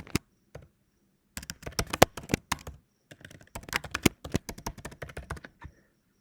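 Rapid clusters of crisp keystrokes on a computer keyboard, close and fairly quiet, typed in bursts separated by brief pauses, with no voices.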